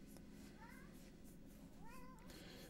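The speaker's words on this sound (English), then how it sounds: "Can you guys hear my cat?" A pet cat meows twice indoors, two rising, drawn-out calls about a second apart, fairly faint over a low steady room hum.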